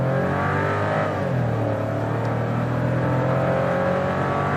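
A car accelerating hard from 0 to 100 km/h in a Fiat Pulse versus Volkswagen Nivus comparison, a loud sustained engine roar with rising pitch and a brief gear-change dip, heard close up with no talk.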